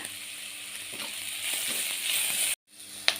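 Thinly sliced onion frying in a pan for aloo kurma, a steady broadband sizzle that builds slightly before a sudden brief drop to near silence, then resumes with a sharp tap.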